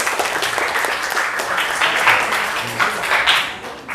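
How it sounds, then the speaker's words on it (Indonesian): A classroom audience applauds, a dense burst of many hands clapping together that holds steady for a few seconds and then tapers off, with no voices over it. "Ya, tepuk tangan."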